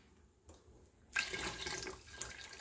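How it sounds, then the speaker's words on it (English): Beef broth poured into a pot of mixed mustard and turnip greens with turkey tails, a soft steady liquid pour that starts abruptly and runs on quietly, close by with no talking. "now I'm going to put in my beef broth"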